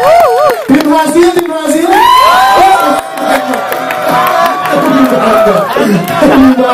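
Lively crowd at a film press conference cheering, whooping and shouting with excited voices, loud and close, with overlapping talk throughout.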